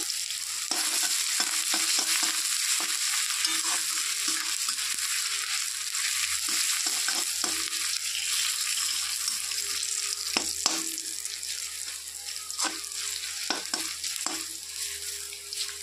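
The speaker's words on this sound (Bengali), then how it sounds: "তো আদাটা ভাজা হয়ে গেছে" Ginger fries in a pan with panch phoron, a steady soft sizzle running throughout, broken by frequent sharp scraping and stirring clacks of a utensil against the pan; no talking.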